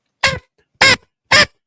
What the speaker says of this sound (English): If you hear this noise, that's the duck.